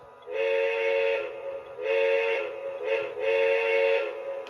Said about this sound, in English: And you can blow the whistle